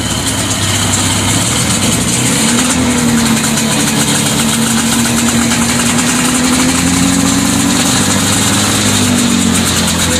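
Vintage snowmobile engine idling at a snowmobile show, a loud continuous rumbling hum with a faint tone that wavers slightly in pitch, steady throughout without speech.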